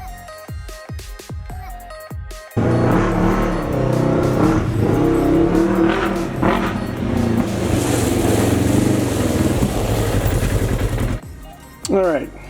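A red truck drives to pull a vehicle around; its engine runs loud and steady for about eight seconds, then cuts out, with voices talking around it.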